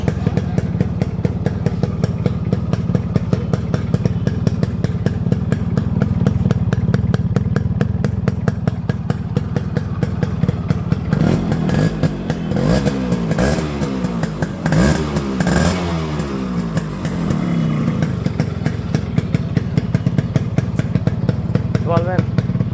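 Yamaha RX 100 motorcycle with a fitted carburettor, its two-stroke engine idling in a rapid, even pulse close by, then revving up in a few rising bursts mid-clip before settling back to idle; someone talks over it.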